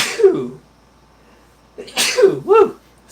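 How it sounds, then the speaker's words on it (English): A person sneezes close up, one loud burst followed a moment later by a quick double sneeze, each with a sharp breathy release. "I decided to sneeze on camera."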